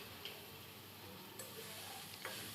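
Pieces of fried rui fish are lightly stirred in a pan with red amaranth leaves in a village Bengali kitchen, giving a faint, steady sizzle with a few soft scraping strokes and no voices.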